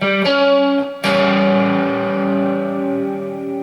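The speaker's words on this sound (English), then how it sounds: "The tritone is played" A heavily distorted electric guitar chord containing a tritone strikes briefly, cuts off, then rings out again and sustains loud with a gritty, dissonant buzz.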